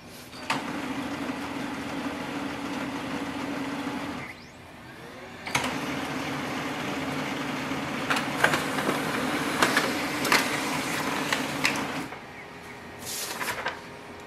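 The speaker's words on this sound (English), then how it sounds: "Let's do a test print." A Lexmark B2236DW laser printer runs a test page, its steady mechanical whir and feed rumble carrying on for several seconds with a brief pause, then sharp clicks and clacks as paper moves through.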